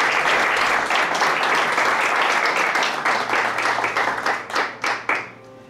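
Church congregation applauding together at a Spanish-language service, a steady wash of clapping that thins into a few scattered, louder individual claps before stopping.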